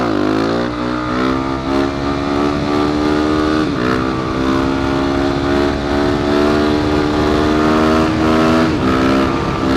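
A carbureted motorcycle engine revs hard and holds a loud, steady high-rpm drone through a wheelie. The note climbs early on, then stays close and continuous with small throttle wobbles, and no talking is heard.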